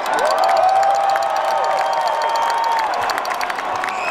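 Large crowd at a Super Bowl championship parade for the Chiefs roaring with sustained cheers, whoops and shouts, dense and continuous throughout, with scattered clapping mixed in.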